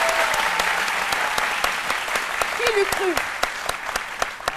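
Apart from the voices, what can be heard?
studio audience applause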